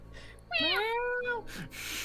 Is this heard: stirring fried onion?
no